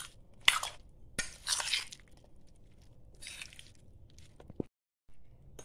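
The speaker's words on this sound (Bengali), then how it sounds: "এরপর এভাবে মাখিয়ে নিলাম সব মশলাগুলোর সাথে" Radish and carrot pickle being mixed by hand with hot oil and spices, wet squelching bursts and sticky crunches in short, separated handfuls, close and fairly quiet.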